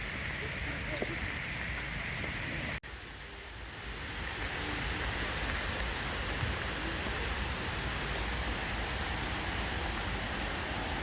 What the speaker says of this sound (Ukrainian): От дощ падає.